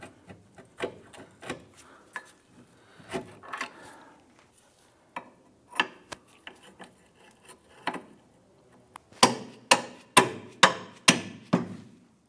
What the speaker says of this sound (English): I'm going to use a small pry bar to the end of the link and the knuckle and gently pry this down.